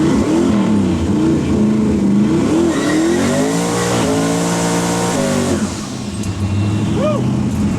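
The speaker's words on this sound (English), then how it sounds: "Car is a 71 Camaro. Nelson Racing Engines 372 twin turbo." A 1971 Camaro with a Nelson Racing Engines 372 twin-turbo V8, loud and close, revving hard with sliding engine tones and tire squeal, as during a burnout.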